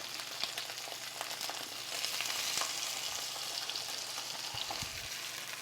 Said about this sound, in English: We're going to put, there we are, corn in the oil.